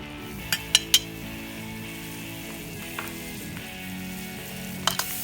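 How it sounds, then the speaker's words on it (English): Flour, butter and olive oil browning into a roux in a pan give off a steady low sizzle, with a few sharp clinks of a utensil against the pan and no talk. "we just added some flour to our butter and our olive oil, and we're gonna let that brown"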